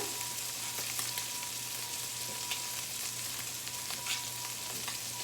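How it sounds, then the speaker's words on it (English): Stuffing ingredients sizzle in a pan on a gas stove as they are chopped, a steady close frying hiss with faint scraping taps, no voices. "Chopping this up just a little more."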